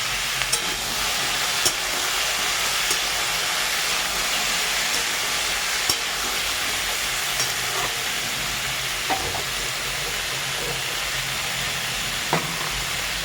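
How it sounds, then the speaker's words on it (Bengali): Pumpkin and potato frying in a pan for a Bengali pumpkin chokka, giving a steady broadband sizzle that runs throughout with a few faint clinks of stirring, no talk. "আর এদিকে ভাজা হচ্ছে দেখুন"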